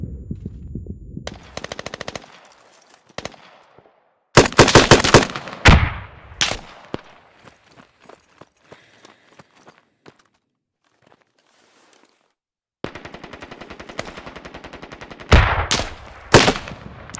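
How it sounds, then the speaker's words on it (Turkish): Bursts of automatic rifle fire and single gunshots from the military shooter game Squad, loud and close in clustered volleys separated by quiet gaps, with no talking. "Reis şu an bana sıkıyorlar."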